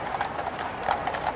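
Horses of the Household Cavalry's mounted band clip-clop along the Mall in London toward Horse Guards Parade during the Trooping the Colour birthday parade, with a steady, moderately close rhythm of hooves over a soft crowd murmur.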